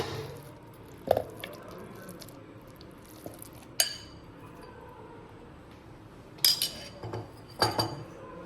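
A few soft wet plops of cream and light clinks of a spoon against a mixer jar, scattered with quiet pauses between them, close by with no talking.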